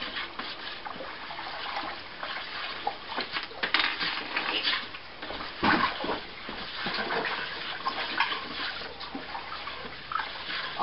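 Melomel mead being stirred in a pot, a continuous close sloshing and swirling of liquid with scraping rises, steady and fairly loud throughout.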